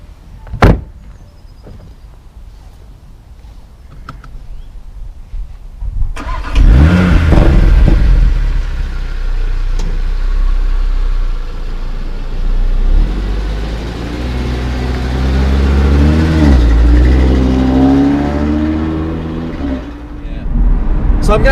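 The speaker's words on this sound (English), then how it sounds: "this car is about driving, so I'm going for a drive" An Audi TT RS starts up and pulls away after a door thuds shut, its engine swelling into a loud, rising rev and then holding a strong drone, with talk from inside the car over the top.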